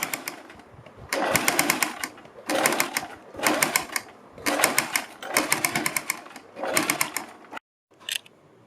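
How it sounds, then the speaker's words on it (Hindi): A sewing machine stitches along the neckline edge of a kurti in close, rapid bursts, each run of stitching lasting about a second with brief pauses between, stopping near the end. "पलटने के बाद हम अपने गले के किनारे किनारे पर एक सिलाई लगाएंगे।"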